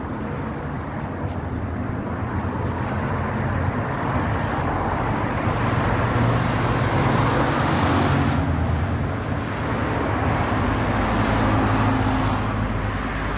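Steady road traffic in Qatar as a car drives slowly past, a continuous broad low rumble of engines and tyres with some wind, no distinct single pass-by, close and moderately loud throughout.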